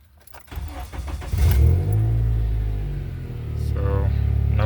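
A 7th-generation Honda Accord with 178,000 miles and a lit check engine light idles with a knock, its engine catching and settling into a steady low rumble close by.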